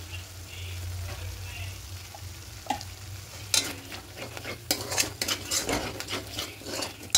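Spice paste being sautéed for a vegetarian potato and paneer curry: a steady low sizzle in the pan, with a spoon scraping and clinking against the metal in bursts during the second half.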